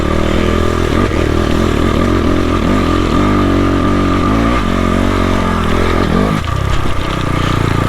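A dirt bike engine revs hard and continuously on a hillclimb trail near Jintang, China, loud and close, with throttle rising and falling over the rough ground and a short drop in pitch toward the end.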